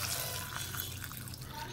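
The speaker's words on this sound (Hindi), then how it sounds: "गर्म पानी डाल दें" Hot water poured into a bowl while soaking ingredients for iftar snacks such as samosas and spring rolls, a steady splashing pour that runs throughout at close range.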